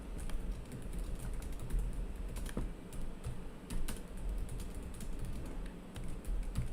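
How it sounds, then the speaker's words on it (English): Someone types a question on a computer keyboard, a steady run of quick, close key clicks with a few louder strikes, heard alone without talk. "I'm going to go ahead and type my question."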